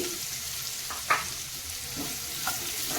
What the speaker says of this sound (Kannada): ನೋಡಿ ಈಗ ಸ್ವಲ್ಪ ಇದನ್ನು ಫ್ರೈ ಮಾಡ್ಕೋತೀನಿ ಎಣ್ಣೆಯಲ್ಲಿ